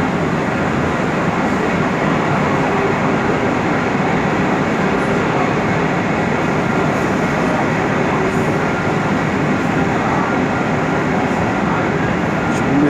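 Loud, steady rumble and roar of an old subway train running toward Contagem near Eldorado station, with rattling and clatter throughout and no pauses.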